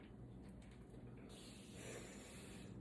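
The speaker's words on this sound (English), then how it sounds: "I spray relaxation into the room" A relaxation room spray is misted into a quiet yoga room, a soft, faint hiss that starts partway through and continues steadily to the end, with no talking.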